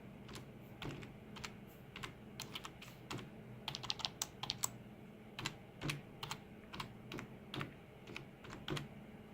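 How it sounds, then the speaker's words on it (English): Uneven, one-handed typing on a computer keyboard at a PC workstation, with sparse, irregular key clicks and short quick runs, close and fairly quiet over a steady low hum. "I'm typing one-handed"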